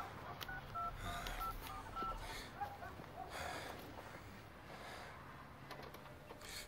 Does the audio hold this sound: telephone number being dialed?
yes